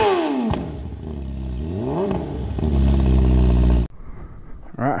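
A 2020–2021 Kawasaki Ninja 1000SX motorcycle engine revs hard and close, its pitch sweeping up and down through several throttle blips before cutting off abruptly, then a quieter idle follows.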